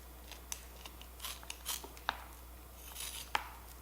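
A knife cuts raw meat into 1-inch pieces while street taco filling is prepared for canning. Sparse, soft clicks and scrapes of the blade come at irregular intervals, quiet and close, with no talking.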